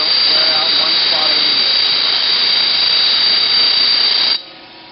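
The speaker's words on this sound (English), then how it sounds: "I'm just going to rough grind most of it." A grinding wheel rough-grinds a metal handle part, giving a loud, steady, high-pitched whine with harsh scraping that runs continuously, then drops off abruptly near the end to a quieter hum.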